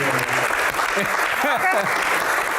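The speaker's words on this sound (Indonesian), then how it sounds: "Oke, tepuk tangan." A studio audience at an Indonesian parliamentary Q&A broadcast claps steadily and fairly loudly throughout, with a voice talking briefly over the applause.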